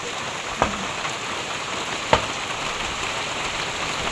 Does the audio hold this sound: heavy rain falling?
yes